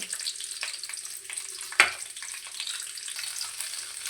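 Green chillies, dried red chillies and curry leaves crackle and sizzle in hot oil for a coriander-leaf puliyogare tempering, a steady close hiss with one sharp spit midway and no talking.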